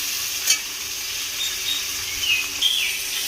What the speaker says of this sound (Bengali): দিয়ে আমি এবারে একটু ভালো করে কাঁচা লঙ্কা আর আদাটাকে একটু ভেজে নেব